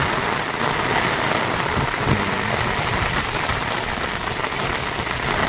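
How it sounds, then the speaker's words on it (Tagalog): Heavy rain pours down outdoors in a loud, steady, unbroken roar of drops on surfaces, with no voices. "Bumuhusa naman ang malakas na ulan."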